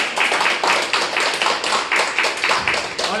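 Steady applause from campaign supporters at a candidate's camp in Jeju, many hands clapping fast and evenly for a few seconds, close and fairly loud, with no talk over it.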